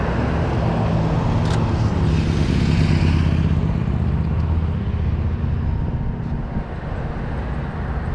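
Motorcycle passing along a busy downtown Los Angeles street, a steady engine drone rising and falling amid continuous loud traffic noise, with no talk over it.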